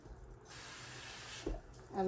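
Water pours from a faucet into a pot of vegetarian oxtails being cooked, a steady hissing stream for about a second, faint and close.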